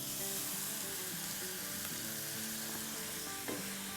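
Sautéed mixture hitting a hot pan while making natural flour-free noodles, giving a steady, dense sizzle with light stirring scrapes and a small clatter at the end.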